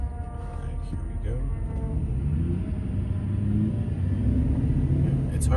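GMC Sierra 2500HD pickup pulling away from a traffic light at night, a low engine rumble building steadily as it accelerates, heard from inside the cab with a faint passing car nearby.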